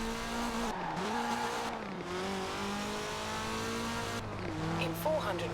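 A low-power car drifting in Forza Horizon 4, engine droning and revving with shifting pitch as tires squeal through a corner, fairly loud and continuous, with a voice briefly speaking over it.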